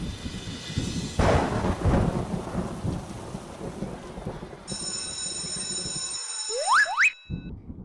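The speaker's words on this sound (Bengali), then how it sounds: "বৃষ্টি তো সকাল থেকে পড়ছে" Cartoon-style rain hisses steadily as heavy thunder rumbles and cracks in the opening seconds, followed by bright ringing tones and rising whistle-like effects before it cuts out.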